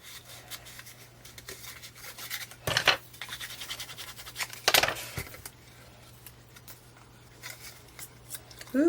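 Scissors cut a folded scrap of paper for a mini matchbox journal craft, making two sharp, brief snipping crunches amid quiet rustling and handling noise, close and otherwise faint.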